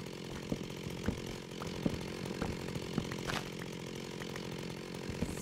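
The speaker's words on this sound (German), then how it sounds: "weil die Kettensäge, naja, die ist ein bisschen laut." A chainsaw in the Minecraft modpack Feed the Beast, video game, runs with a steady buzzing drone and rhythmic cutting bursts about once a second, loud and continuous with no talk.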